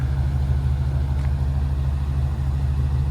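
A 1941 Chevrolet pickup with a 350 engine, automatic transmission and dual exhaust idles with a steady, deep, loud rumble throughout, close by and with no voices.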